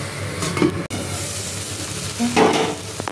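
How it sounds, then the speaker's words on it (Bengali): Spiced masala in a pan sizzles and fries steadily with a little added water as a utensil stirs it, with brief scraping and clinks of the pan close by and no talking. "একটু নেড়ে করে ঢাকা দিয়ে সুন্দর করে একদম কষতে দেবো"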